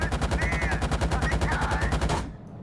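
A BMP-2 autocannon fires in a video game, a rapid, evenly spaced burst of loud heavy shots that stops abruptly near the end, followed by a brief fading echo.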